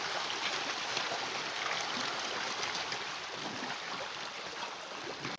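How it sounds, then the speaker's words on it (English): Water pouring steadily into a fish pond during a transfer of fish between ponds, a continuous broadband rushing and splashing that stays even and fairly close for the whole stretch. "we're adding water to them so that we'll also wait for this other side to flush off"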